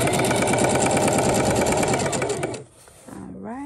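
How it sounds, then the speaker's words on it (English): A sewing machine stitches an invisible zipper, a rapid steady mechanical whir and needle chatter running close for over two seconds before stopping, followed by faint handling noise. "and then we're gonna start sewing"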